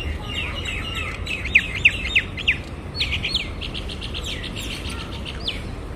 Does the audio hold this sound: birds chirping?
yes